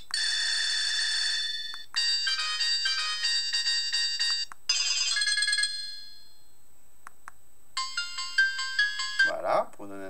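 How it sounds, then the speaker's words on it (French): A Classic Alpha senior mobile phone plays through several of its ringtones in turn: bright electronic beeping melodies in short bursts separated by brief pauses, ending with a quick run of tones, close and clear. "Les sonneries du téléphone."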